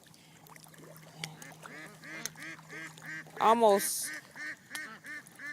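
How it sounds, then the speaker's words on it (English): Ducks on water before sunrise give repeated rhythmic quacks and honks, moderately close, with one louder burst midway and a brief spoken word. "some of the ducks are talking right now because the sun is about to come up"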